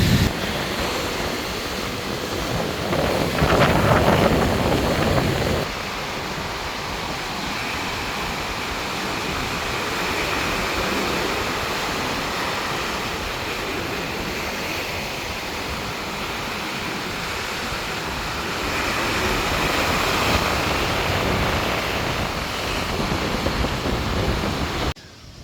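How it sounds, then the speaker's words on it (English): Heavy surf from a rough ocean with waves around ten feet high crashing in, a steady loud roar of breaking water and wind that surges stronger near the start and again toward the end, with no talking. "She is some rough oceans."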